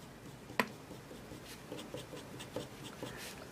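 Fountain pen nib from a Chinese pen scratching across paper, a soft continuous scratch with one sharper tick near the start and faint stroke accents throughout.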